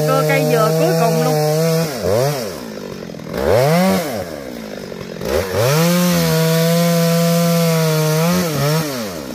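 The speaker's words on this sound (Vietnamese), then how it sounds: "Cưa cây dừa cuối cùng luôn." A chainsaw engine roars close by while cutting down a coconut tree, its pitch rising and falling repeatedly as the throttle is revved, loud and continuous.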